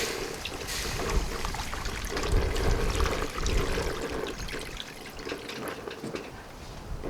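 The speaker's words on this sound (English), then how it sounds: "Now we add water." Water pours into a pot for grouper matzo ball soup broth, a steady moderate wash of splashing and running water heard close up without talk over it.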